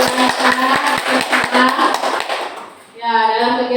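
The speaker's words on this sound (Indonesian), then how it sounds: "Coba beri tepuk tangan dulu sama Bu Ani dan Bu Anissa." Audience clapping during a school teachers' session, a broad wash of hands for a few seconds over a steady tone, then tapering off before a voice resumes.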